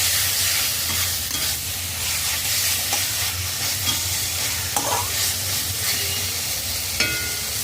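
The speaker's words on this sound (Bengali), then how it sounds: "মুলো দিয়ে দশ সেকেন্ড নাড়াচাড়া করে নিয়েছি" Fried radish pieces being stirred into spice paste frying in a hot pan, with a steady loud sizzle and repeated scraping stirs throughout, no voices.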